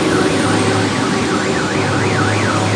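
A car alarm wails in a repeating rising and falling pattern over the steady roar of traffic on a busy city street, loud and continuous throughout.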